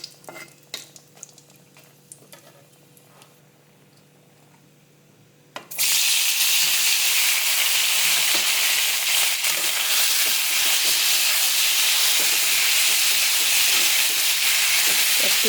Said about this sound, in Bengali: কালো জিরা আর শুকনো লঙ্কা দিয়ে ফোড়নটা দিয়ে দেব